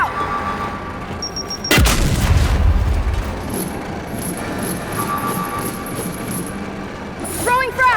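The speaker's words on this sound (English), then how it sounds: "Throwing frag!" In the video game Gears 5, a frag grenade goes off as one sudden, loud explosive boom that settles into a rumbling decay. Battle noise and brief metallic tones surround it, and the game audio stays busy with no talk over it.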